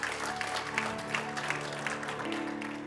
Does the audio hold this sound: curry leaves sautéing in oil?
no